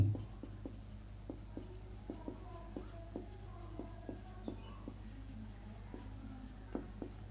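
Chalk or marker strokes on a board as a teacher writes during a maths lesson, a steady run of light, crisp taps and scratches, faint and close, with no voices.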